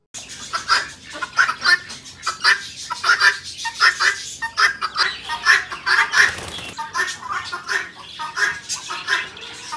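Harsh, rhythmic guinea fowl calls repeat rapidly and loudly, a chattering cackle from several birds close by, continuing without pause.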